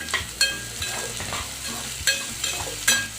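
Capsicum fries in a pan for veg Manchurian, a soft sizzle punctuated by sharp, regular spoon clanks and scrapes against the pan, close up, with no talking.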